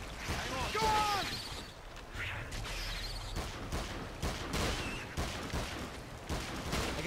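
Gunfire and weapon shots in the King Kong video game, bursts and reports scattered across a busy jungle battle scene amid creature cries and ambient noise, with voices shouting in the background.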